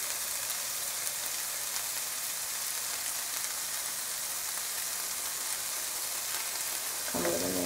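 Beef mince meat pie filling sizzling steadily in a pan as crumbled beef stock cube is stirred through, a constant bright frying hiss at moderate level, with a brief clatter near the end.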